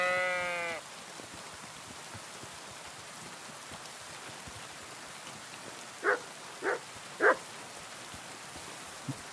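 Sheep in Kingdom Come Deliverance 2 bleat three times in quick succession near the end, short separate calls standing out over a steady rain-like background hiss, with a brief harmonic tone at the very start.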